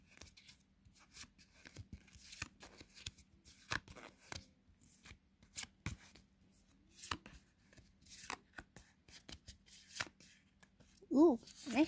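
Playing cards being shuffled for a card trick, producing repeated riffling and snapping bursts close up, with people talking faintly throughout.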